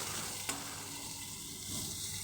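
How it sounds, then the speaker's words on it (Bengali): Onions fry in a pan with a steady, close sizzle, a single sharp clink near the start and a faint swell of stirring toward the end, with no one talking. "পেঁয়াজটাকে আমি একটু লাল লাল করে ভেজে নেব"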